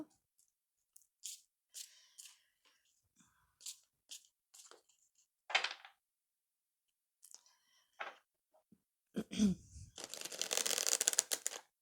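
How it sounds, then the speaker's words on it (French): A deck of cards is handled and sorted one by one with scattered soft flicks and slides, then ends in a dense rapid riffle, close and quiet, with no talk. "Il va falloir que je fasse un tri dans mes cartes."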